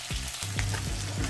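Fish curry sizzles steadily in a non-stick frying pan over gas, a loud continuous frying hiss with a few soft stirring knocks and no talk.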